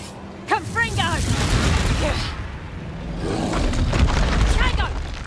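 The Confringo fire spell detonates in Hogwarts Legacy with a booming burst and rumbling roar, followed by another crackling blast, loud and close, while a character's voice and sung tones overlap the explosions.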